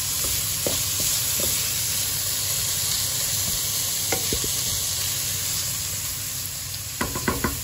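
Onion ginger paste sizzles steadily in a hot pan for an egg curry, with a spoon scraping and tapping the pan every few seconds.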